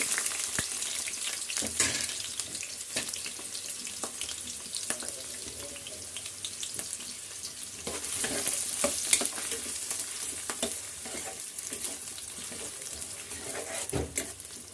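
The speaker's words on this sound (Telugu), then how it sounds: "ఇది బ్రౌన్ కలర్ వచ్చేంత వరకు మనం వేయించుకుందామండి" Onions and green chillies fry in hot oil with a continuous close hiss, punctuated by frequent scraping strokes of a spatula stirring the pan.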